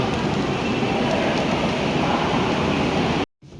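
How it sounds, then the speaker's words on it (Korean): The G5016 high-speed train to Nanjing produces a loud, steady, broadband rumble that continues evenly before cutting off abruptly near the end. "난징 가는 기차를 지금 타러 가고 있습니다"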